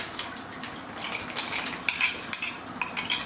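A metal spoon scrapes and taps in a pan while spreading sauce over a Chicago-style deep dish pizza, producing a run of close, repeated clinks and scrapes with no talk.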